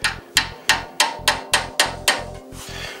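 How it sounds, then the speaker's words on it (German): A hammer taps a stuck radiator thermostat valve pin in eight or nine sharp, evenly spaced metallic strikes, close and loud, each with a short ringing decay over a steady low hum. "jetzt kann das natürlich auch mit dem normalen Hammer machen"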